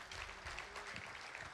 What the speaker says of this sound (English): Are we clapping for Jesus?